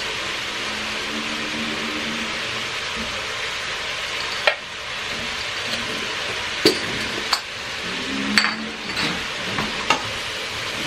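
Ingredients for caldo verde sizzling and frying in a pan while being stirred, a steady hiss broken by several scraping and clinking spoon strokes against the pan, with no talk.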